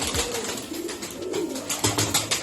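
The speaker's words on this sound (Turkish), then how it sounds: "Bu kırıkkale kuşumuz Arap" Kırıkkale pigeons coo inside a coop, low throaty rolling calls overlapping close by against a busy background of other birds.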